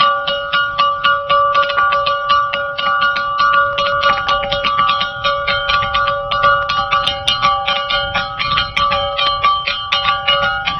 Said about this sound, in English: It's what we call the rock gong